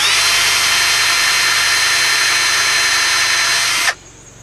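A loud power drill bores a hole in a wooden rifle rack with a high, steady whine that holds without a break for about four seconds, then cuts off abruptly.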